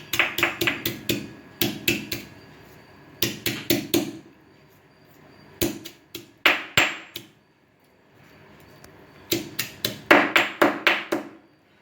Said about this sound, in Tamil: இப்போ வந்து ஒரு 5 பூண்டு பல்லை வந்து நம்ம இதில் தட்டி இதில் போடணும்